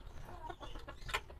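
Several short clucks and calls from chickens, including a Polish male, close by in a backyard, irregular, with a soft bird chirp over a low background rumble.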